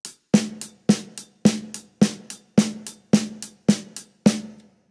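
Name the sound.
hi-hat and snare played with same force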